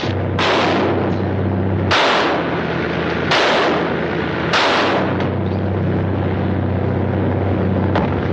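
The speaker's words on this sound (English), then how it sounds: "Didn't I tell you not to shoot, gentlemen?" Four heavy gunshot blasts at roughly one-second intervals fire at a ramming boat in a 1939 film, loud and booming over constant engine and water rumble.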